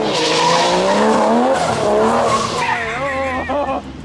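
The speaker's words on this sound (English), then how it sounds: "Nothing like a good old burnout to make sure she works." Loud, wavering tire squeal from a Ford GT350 with a Barra engine doing a burnout, the engine roaring underneath as the screech rises and falls in pitch.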